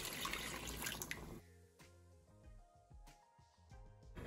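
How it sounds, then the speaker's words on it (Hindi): Half a cup of water is poured into a chana chaat mixture with mashed boiled potato, a brief splashing pour followed by quieter clinks and knocks of a utensil against the pan. "1/2 कप पानी का डालूंगी साथ।"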